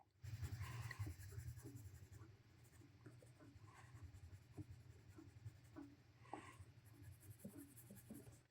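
Steady scratchy strokes of a colored pencil on paper, close and continuous with small bursts of quicker shading, no voices.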